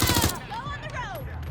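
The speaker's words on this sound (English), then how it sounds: "Shots fired!" Loud burst of rapid gunshots in Watch Dogs Legion, a quick string of close reports at the very start before they give way to lighter in-game sounds and tonal chirps.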